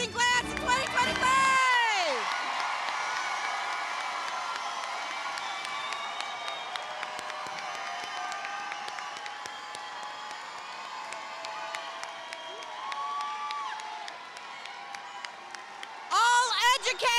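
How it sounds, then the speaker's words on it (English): A graduation crowd applauds and cheers for the class of 2025, a long, steady wash of clapping and scattered whoops that fades slightly, bracketed by a speaker's voice at the start and end. "Another round of applause for the amazing class of 2025!"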